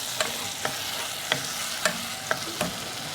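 Spices and ghee for daal mash being fried in a pan, a continuous crackling sizzle with several sharp clicks of a spoon against the pan at uneven intervals, no talk.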